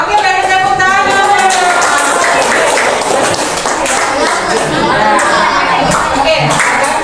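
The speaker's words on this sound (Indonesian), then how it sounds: "Oke, beri tepuk tangan" A seventh-grade class at an Indonesian junior high school bursts into loud, sustained clapping, with children's voices chattering and calling out over the applause.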